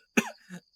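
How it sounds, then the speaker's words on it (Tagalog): Two close coughs, a heavy hacking burst followed by a weaker second one, from a woman with a persistent, worrying cough in a Filipino drama scene; no other sound around them. "Parang di na yan normal na ubo"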